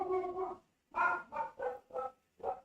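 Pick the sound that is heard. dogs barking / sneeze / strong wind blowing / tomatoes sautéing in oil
dogs barking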